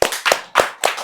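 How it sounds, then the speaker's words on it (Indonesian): Four sharp, evenly spaced claps close by, a few people clapping together in a short burst. "kita tepuk tangan"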